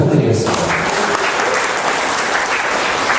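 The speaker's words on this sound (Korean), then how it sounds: "박수 부탁드리겠습니다" Loud, full applause from an audience at a presentation contest event, dense continuous clapping close by with a brief voice at the very start, then hands alone.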